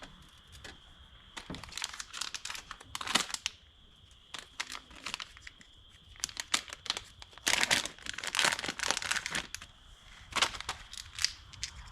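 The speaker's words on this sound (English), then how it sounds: "we're going to put thread tape on it." Thread tape being wrapped around the fuel inlet fitting of a Minneapolis Moline 335 tractor carburetor, close, quiet bursts of crinkling and stretching plastic in irregular clusters, no talking.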